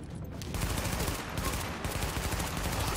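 An MP5 fires in rapid bursts in Tom Clancy's The Division, a loud, continuous rattle of close automatic gunfire that carries on for the full few seconds.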